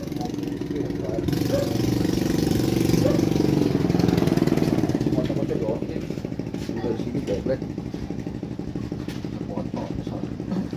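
Motorcycle engine idling with a steady rumbling throb, close and prominent, settling slightly lower partway through while people talk nearby.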